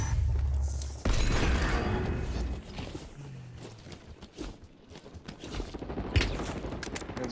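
Gunfire and booms from a multiplayer shooter video game, with a heavy thump and several sharp shots of varying loudness amid game noise, no clear talk.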